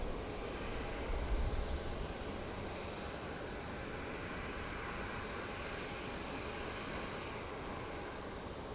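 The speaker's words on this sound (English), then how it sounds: "We have a Southwest moving slowly." A Southwest airliner taxiing slowly at Sky Harbor airport at night, a distant, faint, steady jet engine rumble that holds evenly throughout.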